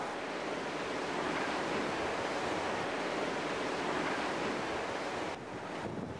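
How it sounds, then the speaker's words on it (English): Pounding surf on a windswept coast in southern Japan, a constant loud roar of breaking waves mixed with wind buffeting the microphone, steady throughout with a slight dip near the end. "You could just almost taste the salt in the air from this pounding surf out here."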